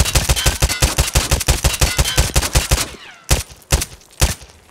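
Rapid-fire Glock pistol shots in Escape From Tarkov, a fast steady string of loud, close bursts that stops abruptly, followed after a brief pause by two more separate shots, with no voice over the firing.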